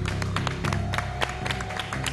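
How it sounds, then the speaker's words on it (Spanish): Audience applause greets three contestants on the Monte Carlo TV show "Agitando una más", a steady wash of clapping mixed with music at a constant level throughout. "Fuerte el aplauso para las tres."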